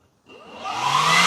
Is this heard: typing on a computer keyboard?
no